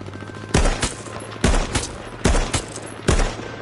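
Four loud, close gunshots ring out at a steady pace, each with a short echoing tail, during a H1Z1 five-player match on PS4.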